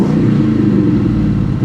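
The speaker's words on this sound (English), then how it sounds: "Love the sound of V8s." A V8 car engine revs steadily at a salvage auction, a loud, close, continuous throaty rumble with a strong low-end drone holding for the whole stretch, no voices over it.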